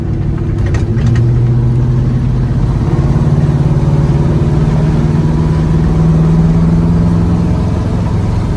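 A 1985 Chevy C10 square-body 4x4 pickup with a swapped LS V8 runs steadily, a loud, close, continuous low rumble with a slight rise in pitch partway through and no voices.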